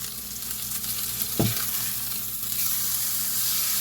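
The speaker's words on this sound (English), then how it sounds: "I'm gonna let this cook, but we already seared one side, and we're gonna sear the other" Ham sears in a hot pan with a continuous bright sizzle, joined briefly by a short scrape or stir midway, no voices present.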